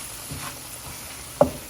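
Fried okra being stirred into masala in a pan, a soft low sizzle with gentle scraping and one sharp spoon knock near the end.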